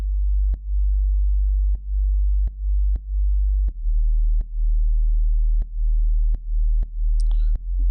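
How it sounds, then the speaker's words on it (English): Mono sine-wave sub bass synth from a melodic breakbeat track, sidechained to a kick: a deep low hum that ducks and swells in a steady pulse, about ten dips over eight seconds, with a faint high chirp near the end. "The sub, it's very simple. It's a sine wave, nothing crazy, mono,"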